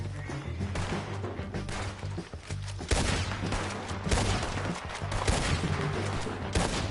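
Dense, sustained video game gunfire fills the clip, with rapid bursts and overlapping shots alongside thuds and crashes, loud and close throughout.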